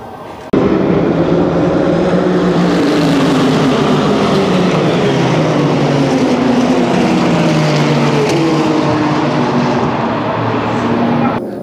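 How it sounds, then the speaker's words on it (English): Race cars take off at the Nürburgring in a dense, continuous roar of many engines with rising and falling pitches, heard loud and steady from a grandstand tower above the pit lane. "it should be incredible watching all these cars take off here"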